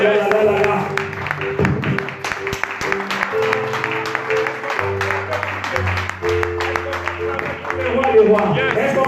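A church congregation applauds and cheers for the king during a sermon, with clapping under loud music and voices throughout.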